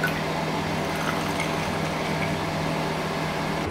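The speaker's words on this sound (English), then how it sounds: "Pour the milk into the cup, so you just want to pour it high so that you don't get the foam." Milk poured from high above into an espresso cup for a latte, a steady continuous liquid rush close up with no break.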